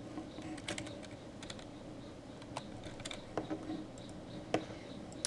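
Keys on a computer keyboard are tapped in scattered, irregular clusters, fairly quiet and close, with no one speaking.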